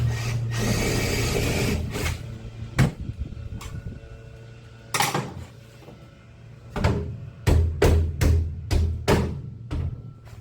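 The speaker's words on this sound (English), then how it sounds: "Doesn't really matter what size drill bit you use, just something that will get that head off." A power drill grinds rivet heads off the body of a school bus being converted, in short bursts of whirring and biting separated by pauses, close and fairly loud, with scattered clanks between.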